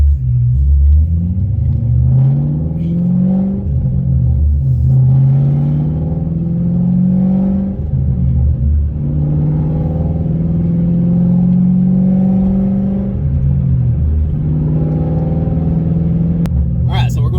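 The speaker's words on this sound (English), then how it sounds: "hopefully this kind of gets us a little bit of blower noise" A Ford GT500 with an intake and resonator delete accelerates hard through the gears, its supercharger blower whining in rising sweeps over a deep engine rumble, with shifts between pulls and a voice talking over it at times.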